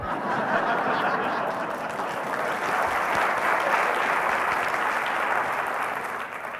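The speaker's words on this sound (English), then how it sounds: "That's where I was supposed to pause for applause." A room full of people at a college State of the College address claps steadily for several seconds, a dense, even patter of applause with no voices standing out.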